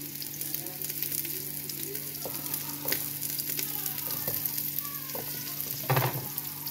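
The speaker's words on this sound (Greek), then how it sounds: "Ανακατεύουμε να τσιγαρίσουμε εδώ το κρεμμύδι με το σκόρδο" Onion and garlic sizzle while being stirred in a frying pan for a Greek bean dish, a steady close frying hiss broken by a few scraping strokes of the spoon, with no talking.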